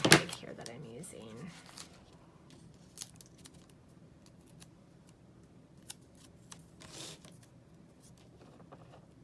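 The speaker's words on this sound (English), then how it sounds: "So I'm gonna kind of cut like a scallop shape and see how it looks on my little tag here" Scissors snip around a scallop-shaped edge on sticker paper, a few close, crisp cuts at the start followed by small scattered clicks and paper handling, with faint talk in the background.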